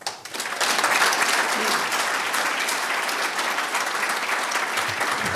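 Sustained applause from a large audience at an Army Sports Hall of Fame induction ceremony, steady and dense clapping that rises quickly and holds at full strength throughout.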